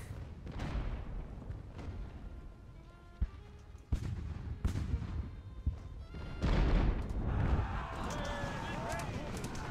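Cannons fire in a naval battle in the Ultimate Admiral: Age of Sail video game, with several sharp booms spaced a second or so apart over a busy battle din, then a denser rumbling volley near the end.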